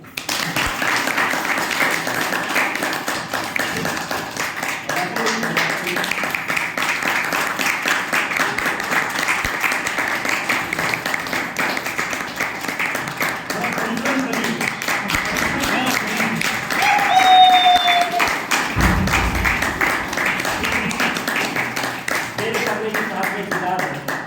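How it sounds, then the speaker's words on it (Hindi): An audience at an open meeting in Gurgaon, Haryana claps steadily for a long stretch, a dense even patter of many hands, with a voice and brief other noises cutting in near the end. "एक बार बजाओ तालियां"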